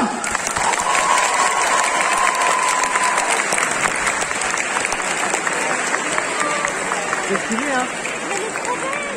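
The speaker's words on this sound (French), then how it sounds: "Donc vous allez les applaudir bien fort" An audience at the Art To Play cosplay contest in Nantes applauds a pair of cosplayers. Sustained, loud clapping continues throughout while a voice keeps talking over the crowd.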